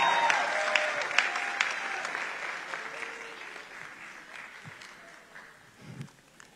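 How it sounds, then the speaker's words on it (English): Congregation at a lively Sunday church service applauding together, a steady wash of clapping with scattered sharp claps and a few voices, fading slightly toward the end. "Let's give them a round of applause"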